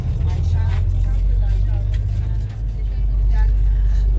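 Intercity coach idling at Esenler bus station in Istanbul before departing for Bulgaria, a steady low engine rumble close by, with station bustle and faint voices around.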